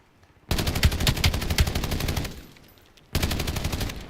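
Rapid automatic gunfire in Call of Duty Black Ops 7, a loud sustained burst of evenly spaced shots for about two seconds, trailing off, then another burst starting after a short pause.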